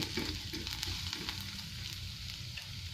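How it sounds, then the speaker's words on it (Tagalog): Garlic and onion fry in a pan with a soft, continuous sizzle and occasional stirring scrapes, heard close and alone without speech. "hindi ko po pala na-play yung pagigisa ng bawang at sibuyas"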